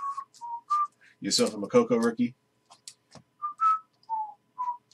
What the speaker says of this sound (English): Can't even whistle the first line to the Manchester United fight song.